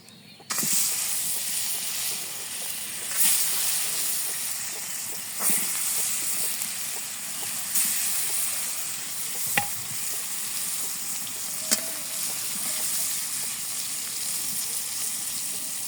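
Fish fries in oil in a village kitchen, giving a steady moderate sizzle and hiss, broken every couple of seconds by sharp spatters and clinks as the pieces are moved about, with no talking.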